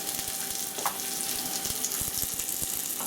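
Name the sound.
peppercorn-crusted steak au poivre sizzling in a pan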